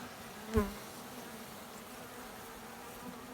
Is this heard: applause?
no